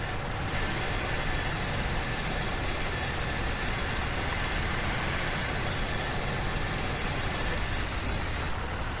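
A tractor engine in Farming Simulator 17, a steady, loud, broadband rumbling drone that holds constant without change, with no talking.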